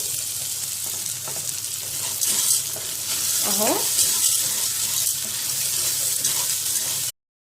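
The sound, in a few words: frying and stirring pasta in pan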